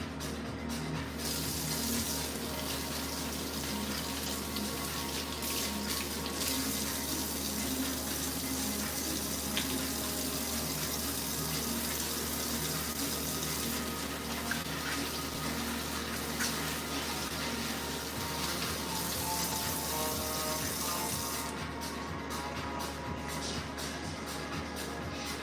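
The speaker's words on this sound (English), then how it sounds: "I'm gonna wash my hands again from the steak." A kitchen tap runs in a steady, loud, unbroken stream for about 25 seconds while hands are washed after handling raw steak, with only slight shifts in the splashing.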